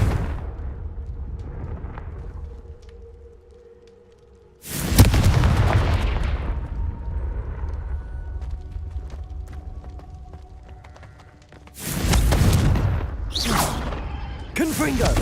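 Fiery Confringo spell blasts in Hogwarts Legacy burst out as two loud booming explosions, one midway and one near the end, each with a crackling tail, over quieter ambient game sound and some background voice.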